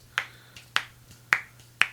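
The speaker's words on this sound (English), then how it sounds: "Oh, I can kind of snap this one" Four crisp finger snaps come close and fairly loud, each a sharp click with a short ring, spaced roughly half a second apart over a low hum.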